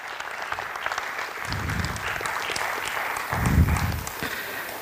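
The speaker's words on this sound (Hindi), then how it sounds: "जोरदार तालियां प्लीज" Loud audience applause fills a Hindi-language stage event, steady dense clapping throughout with a swell of louder clapping near the end.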